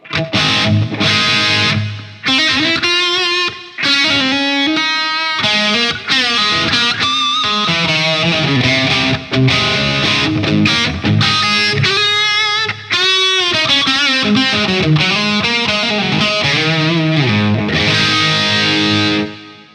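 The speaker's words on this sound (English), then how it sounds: "I'm going to change it to the reverb." Distorted electric guitar plays continuous chords and riffs through an EV ZLX12 Gen2 full-range speaker with a reverb effect, thick with effects and a washy, lingering ambience, loud and unbroken throughout.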